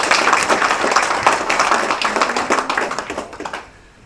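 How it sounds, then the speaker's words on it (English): An audience at a brand launch event gives loud, close applause with distinct individual claps, which thins out and fades to quiet near the end. "Please, let's give them a big applause."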